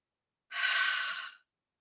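One long exhale during a gentle morning yoga session, a soft breathy whoosh lasting about a second, close and alone against silence.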